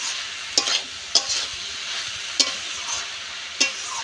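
Chopped banana stem frying with mustard paste in a pan gives off a steady close sizzle, broken by four sharp spatula scrapes spaced irregularly, with no voices.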